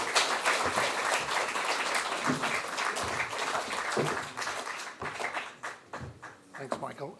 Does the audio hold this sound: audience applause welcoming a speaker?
yes